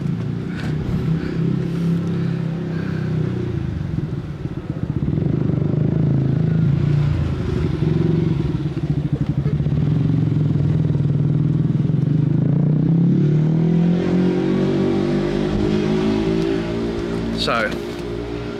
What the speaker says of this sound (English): and then a motorbike turns up.